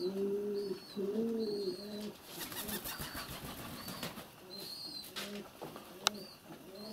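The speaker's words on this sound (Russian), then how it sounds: "Вот настоящий дикий сизарь." Wild rock pigeons coo in soft repeated phrases, fairly close, over faint rustling and scattered background chirps.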